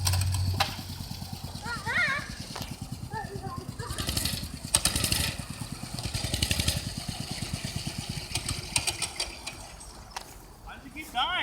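A mini bike engine with an old, gummed-up carburetor idles roughly with an uneven rapid putter, stumbling and fading. Voices talk over parts of it.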